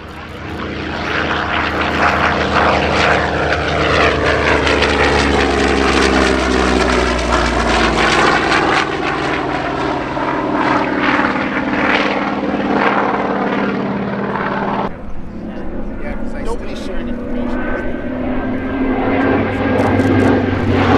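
An F4U Corsair propeller fighter flies aerobatics at the Thunder Over Michigan 2022 air show, its piston engine roaring loud and steady throughout, with the pitch sweeping and shifting as it passes and maneuvers.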